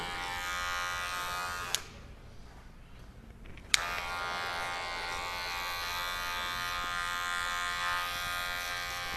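An electric hair clipper with a 1.5 guard buzzes steadily while cutting a fade at a barbershop, its close tonal hum cutting out briefly for about two seconds before switching back on and running continuously.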